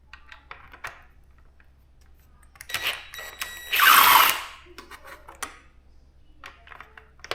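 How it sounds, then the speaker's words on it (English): Power driver whirring briefly on 4 mm mushroom-headed Allen bolts of a Suzuki GSX-S750 motorcycle, with a loud burst around the middle, ratcheting clicks and light handling noises around it. "So I'll try and fit my driver in there."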